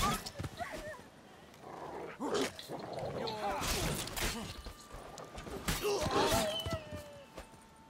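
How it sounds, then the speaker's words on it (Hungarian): Dogs in the open-world fantasy game The Witcher 3 bark and yip faintly amid game sounds and voices, several short bursts scattered through the clip. "Kutyák is vannak?"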